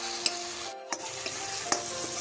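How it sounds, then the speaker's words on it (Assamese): Onion and tomato fry in a hot, smoking wok for a gravy, giving a steady close sizzle with a few sharp scrape-and-stir clinks spaced through the short stretch. "প্ৰথমে পিঁয়াজটো আৰু বিলাহীটো অলপ ৰঙা কৰি লওঁ, গ্ৰেভি টাইপ।"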